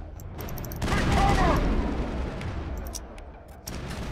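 In a Mass Effect firefight, game gunfire rattles on steadily while a grenade blast swells into a loud, rumbling boom about a second in, followed by continued sporadic shots and a player's voice talking over the action.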